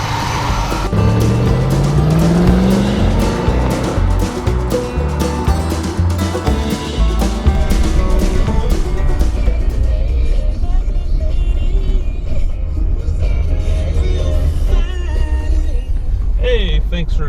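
Loud, close engine of a 1992 Chevrolet Corvette ZR1 (375 hp, six-speed manual) rising in pitch as it accelerates through gears, then a steady roar with road noise, with talking mixed in.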